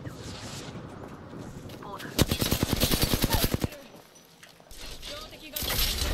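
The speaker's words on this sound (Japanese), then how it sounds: "ガンガン撃つわよ。" Apex Legends gunfire: a fast automatic burst of about a dozen sharp shots in the middle, loud and close, with quieter game sounds and a voice before and after.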